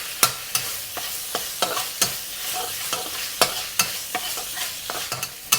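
Minced meat, potato and long beans stir-fried with black bean paste, pepper and sugar in a hot wok, with a spatula scraping and clacking in a steady irregular rhythm over a soft continuous sizzle, close and moderately loud.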